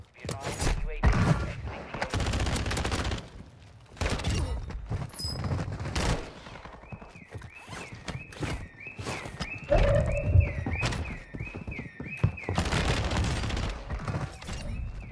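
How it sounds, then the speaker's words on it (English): Avancer assault rifle fire in the game Warzone 2 comes in several loud rapid bursts spread across the stretch, mixed with mechanical clatter, a steady tonal beeping in the middle and faint talking. "It's the new assault rifle, bro. The Avancer."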